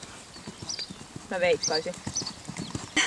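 Horse hooves clip-clopping at a riding event, a steady series of sharp hoof beats with people talking over them.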